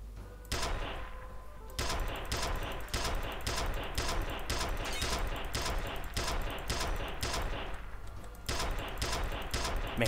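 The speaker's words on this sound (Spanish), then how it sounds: "¿cuántos disparos necesita el bicho este?" Rapid bursts of gunfire from the first-person shooter F.E.A.R., loud and sustained, with short repeated volleys and brief pauses between them.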